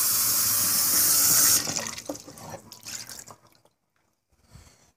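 Water pours steadily into a pot for pressure cooking pinto beans, a loud rush that stops abruptly, followed by a few faint splashes and drips before near silence.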